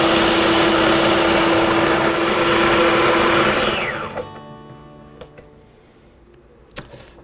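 A food processor blends thick hummus, a loud steady motor whir with a high whine running alone for about four seconds before winding down into quiet, followed by a few faint clicks and knocks.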